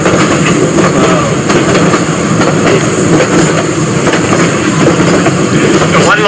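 A train of railroad cars pulled by a locomotive on a long mountain descent, a loud, close, continuous rumble with clattering wheels and a high squeal, under someone speaking.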